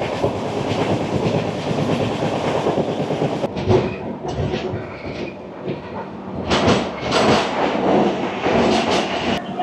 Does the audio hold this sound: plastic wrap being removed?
no